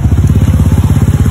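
A motorcycle engine revs hard at high RPM, close and loud, with a rapid, steady, throbbing pulse and no pause.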